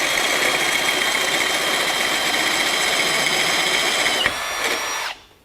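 A step reamer bores through 1/2 inch steel, a loud, steady power-drill whine with grinding bite that holds for about four seconds, then a sharp click and a brief lighter spin before the motor cuts off.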